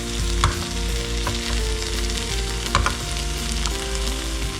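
Chicken pieces sizzling loudly in hot oil in a pan, with steady frying crackle and a few sharp scrape-and-clatter bursts as the pieces are stirred and turned.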